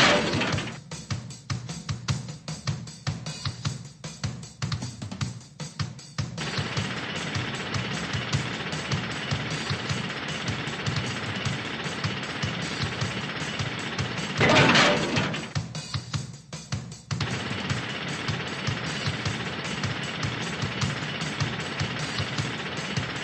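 A cartoon monster truck drills into a big rock with a steady, loud jackhammer-like rattle. It stutters in bursts, and a brief crash sounds near the middle, with no speech over it.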